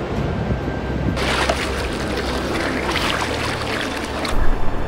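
Large ocean waves break at sunset on the southern sea coast, a rushing wash of surf with wind buffeting the microphone, swelling louder partway through and again near the end.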